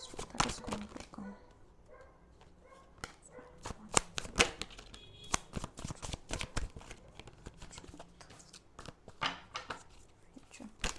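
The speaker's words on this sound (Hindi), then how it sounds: "हम टैरो कार्ड्स निकाल लेते हैं क्लैरिफिकेशन के लिए" Tarot cards are shuffled by hand in quick, crisp riffles and slaps, a steady run of sharp card flicks and papery bursts close to the listener with brief pauses between bursts.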